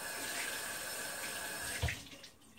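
Running tap water splashing steadily into a jar being rinsed out, a continuous hiss that ends with a short clunk and then fades as the flow stops.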